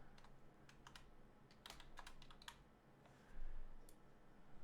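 Typing on a computer keyboard, a quick run of light clicking keystrokes that come in short bursts, close up and quiet, with no voices.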